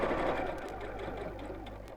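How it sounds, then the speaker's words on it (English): A sewing machine stitches a fabric tote bag, a steady close whirring hum that runs continuously and evenly without any voices. "put the zipper foot onto your sewing machine and use that instead"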